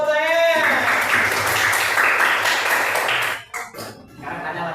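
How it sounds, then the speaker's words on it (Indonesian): Classroom applause from pupils in an Islamic religious education lesson, a dense burst of clapping for about three seconds that breaks off abruptly, with voices around it. "Iya betul, tepuk tangan."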